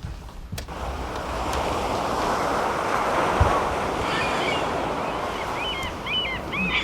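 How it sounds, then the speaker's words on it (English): Steady ocean surf washes in a continuous broad rush, with wind noise over the microphone and faint high chirps late on, playing as a relaxation sound recording. "Soothing ocean sounds."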